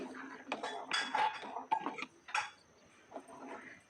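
A ladle scrapes and clinks against a pot while stirring thick fenugreek and urad dal kali over a low flame, making a series of close, uneven metallic scrapes and taps with short pauses between them.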